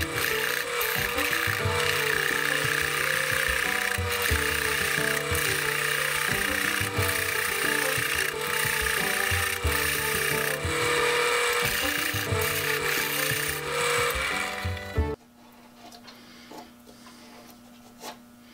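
A wooden bench vise handle stop being turned on a lathe, the wood tearing out around a large wormhole; steady loud scraping and rumbling cutting noise runs continuously, then drops abruptly to a quiet, faint hum near the end.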